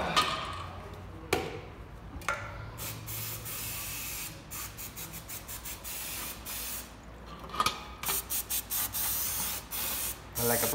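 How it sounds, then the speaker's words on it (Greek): Aerosol spray hisses onto Mazda RX-7 FD car parts in a series of short and longer bursts, loud and close, with brief pauses between the spurts. "Το μαγικό σπρέι."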